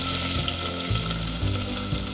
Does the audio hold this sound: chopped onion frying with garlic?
yes